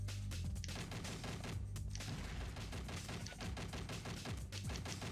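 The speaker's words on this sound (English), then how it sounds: "Gonna shoot this thing down" Rapid gunfire in the video game Cheesy, a fast and continuous stream of shots with low thumps. It stays steady and loud for the whole span, and no one talks over it.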